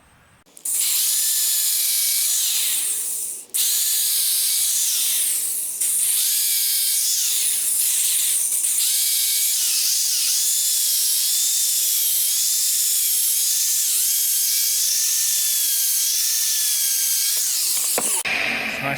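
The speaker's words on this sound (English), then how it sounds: "I'm going to drill a hole at every point I marked." A power drill whines loudly and steadily as it bores holes into a log, pausing briefly near the start and then running almost continuously, its pitch wavering as the bit bores in.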